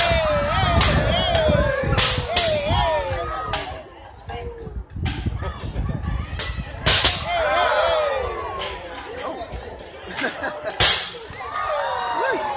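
Soda bottle cannons with electric igniters fire in a rapid, irregular volley of sharp whip-like cracks, some close and loud, others farther off, over constant crowd chatter and voices at an outdoor science festival in Philadelphia.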